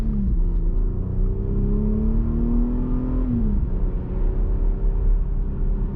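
A Jeep Grand Cherokee drives and accelerates in a steady rising engine drone heard from inside the cabin, with one gear shift partway through before the engine settles into a lower rumble, and no talking.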